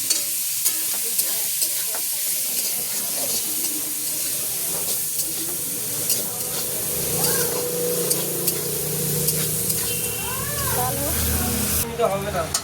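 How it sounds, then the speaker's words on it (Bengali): Onion frying in white cooking oil with steady sizzling and stirring scrapes through the clip, while people talk over the cooking. "দেখো পেঁয়াজ দিচ্ছি কিন্তু তেলে, সাদা তেলে"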